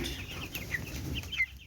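Broiler chickens cluck and chirp in a quiet poultry house, short faint calls scattered over a low room hum, with no voices.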